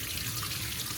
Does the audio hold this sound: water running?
yes